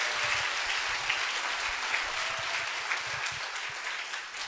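A church congregation claps to welcome a visiting pastor at a Friday evening evangelism service, a sustained broad patter of applause from a crowd, moderately loud and steady throughout.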